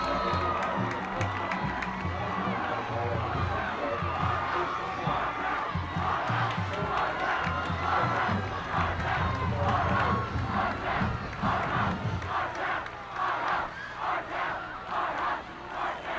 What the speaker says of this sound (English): Huge crowd gathered at Harv Collins Field tonight.